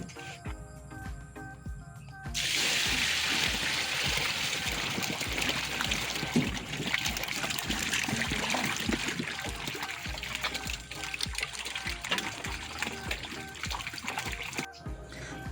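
Water pours steadily into a bucket holding freshly harvested catfish, a continuous splashing, trickling rush that starts after a couple of seconds and runs close and even for about twelve seconds before stopping.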